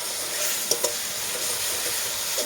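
Spice paste with ground tomato fries in a pan with a dense, continuous sizzle, broken by a couple of small stirring clicks, close and steady throughout.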